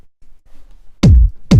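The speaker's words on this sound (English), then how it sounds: "very 909-esque kick," Big, fat, deep 909-style kick drum with an extra layered body, minimal house production: two loud booming hits with long low tails, the second following about half a second after the first, over a faint low rumble beforehand.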